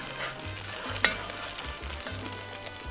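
Steady sizzling of battered pork schnitzel frying in hot oil, a continuous crackle with occasional sharper pops, close by and moderately loud.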